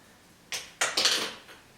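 Fabric being chopped off a pair of shorts with scissors, a few short crisp snips close by, the middle pair of cuts loudest and a faint last one trailing off.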